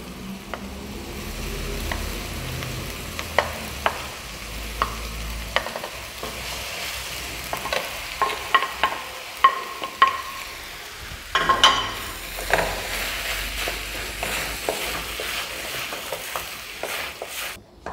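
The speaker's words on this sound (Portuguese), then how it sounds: "cebola dourada, refogada, com uma pitada de pó de camarão, nós vamos acrescentar o feijão já fradinho, já cozido" Cooked, drained black-eyed peas being stirred into a pan of golden sautéed onion with a pinch of shrimp powder, giving a steady sizzle broken by sharp scrapes and clinks of the spoon against the pot, with no talking.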